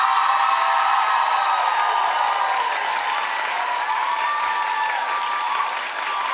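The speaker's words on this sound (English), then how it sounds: "Clap." Studio audience applause at a daytime talk show, answering a host's clap poll: dense, loud, sustained clapping with a few cheers mixed in, steady for several seconds before easing slightly at the end.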